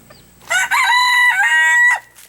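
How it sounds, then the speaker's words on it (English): A single loud rooster crow rings out close by, a rising, drawn-out call lasting over a second with a quick break near the end, with no other sounds. "Still got 3 roosters over in this pen."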